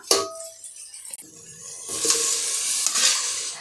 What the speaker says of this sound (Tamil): தக்காளி இந்த அளவுக்கு மசிஞ்சதும் நம்ம வேக வச்ச கறியை ஆட் பண்ணிக்கலாம்